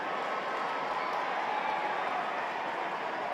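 A women's football crowd at a Bristol City v Chelsea match gives a warm, even round of applause as an injured player gets back up, a distant, diffuse wash of clapping from the stands.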